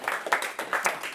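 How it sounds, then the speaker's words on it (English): A small audience gives brief, moderately loud applause, a patter of scattered claps rising and falling in a room during a music-industry talk. "Round of applause."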